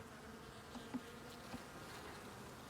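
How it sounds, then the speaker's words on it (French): Honeybees and larger drone bees buzz steadily at a beehive, a faint, continuous insect hum with a few brief louder passes close to the microphone. "mes abeilles sont grosses. Non, c'est des faux bourdons"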